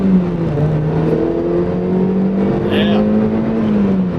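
A cammed 2.5-litre Mazda NC Miata with an EFR turbo pulls hard, heard loud from inside the cabin as a thick, continuous engine drone that climbs gradually in pitch without letting up.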